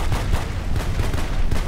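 Pistol fire in Battlefield Bad Company 2, a dense, loud run of gunshots in quick succession blending with surrounding battlefield shooting, with no break in the noise.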